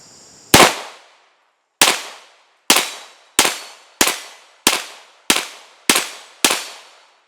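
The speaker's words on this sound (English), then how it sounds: "I'm going to shoot at some targets here." A 1911 knockoff pistol fires nine loud shots at targets, the first alone, then the rest in a steady cadence about a half second apart, each a sharp crack with a quick decaying echo.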